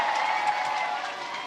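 An audience applauds at the 5th annual commemoration of the Declaration of World Peace, a brief, moderately loud burst of clapping from a crowd that trails off slightly, with a faint tone held beneath it.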